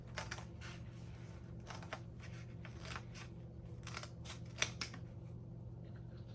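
Scissors snip along a drawn line on a hobby horse cutout, a steady series of close, quiet crisp cuts repeating through a faint background hum.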